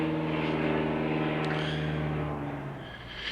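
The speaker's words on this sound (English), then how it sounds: "I'm going to let that airplane pass overhead so I'm not yelling over it" A propeller airplane drones overhead, a loud, steady engine hum that slowly fades as it passes.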